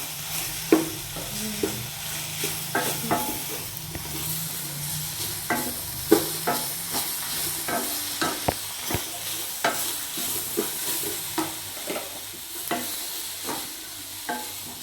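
Steady sizzling and frying in a pan as vegetables for cabbage chutney are sautéed, with repeated scraping and stirring clicks at an uneven rhythm, close by, with no talking.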